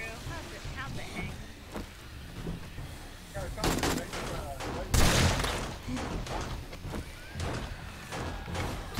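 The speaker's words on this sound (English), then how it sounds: "More shots." Scattered gunshots ring out in the survival game 7 Days to Die, several sharp cracks at uneven intervals with one louder blast in the middle, heard under a player's ongoing conversation.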